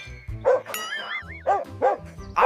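A dog gives loud, close barks and yips in several bursts, some with rising whining tones, set against a low droning background.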